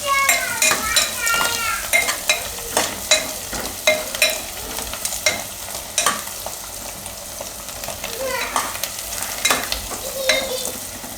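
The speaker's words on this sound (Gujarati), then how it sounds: "તો એમાં આપણે આ વધારાનો જે મસાલો છે એ આમાં નાખી દેવું અને મિક્સ કરી દેવું." Masala being stirred into a yam and brinjal curry in a pan, with a soft steady sizzle under repeated scraping strokes and light clinks of a spoon against the metal pan, close and alone without talk.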